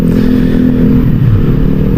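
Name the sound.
noisy motorcycle passing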